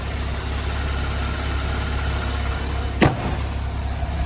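2009 Porsche 911 Carrera Cabriolet with a 3.6-litre 345-horsepower engine and six-speed manual, idling steadily with a low, even hum and one brief click partway through, with no talking.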